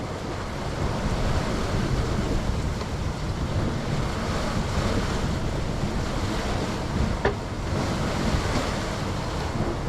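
A reefed sailboat beating upwind flops through ocean waves as wind roars across the microphone, a continuous loud wash of surf and gusts with one brief knock partway through.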